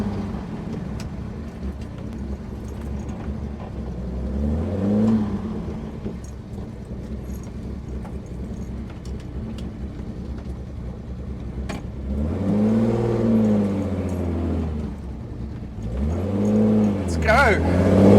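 A Jaguar E-Type lightweight accelerates hard through the gears, its engine note climbing in pitch in repeated sweeps, with brief drops at each shift, heard from inside over steady road roar.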